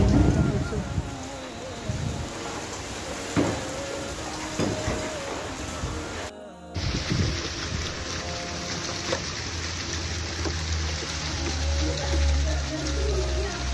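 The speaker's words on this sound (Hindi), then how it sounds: "यहाँ बारिश हो रही है।" Rain falls steadily during Friday prayers in Ramadan, a broad continuous hiss that carries through the whole recording, with brief voices and a short dropout partway.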